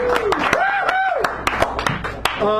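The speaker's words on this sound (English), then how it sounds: "Give him a round of applause" Audience applause at a poetry hour in Sacred Grounds Cafe, San Francisco, a short burst of close, uneven hand claps with a voice talking over it.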